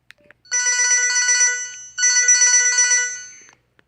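Ringtone from an old LG flip phone: a bright, loud electronic melody of quick repeated notes, played in two phrases with a short gap between them, heard alone in a quiet room.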